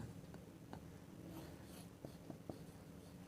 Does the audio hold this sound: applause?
no